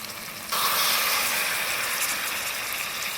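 Chicken pieces dropped into hot spice paste in a pan, bursting into a loud, steady sizzle that starts suddenly after a quieter fry and keeps hissing to the end.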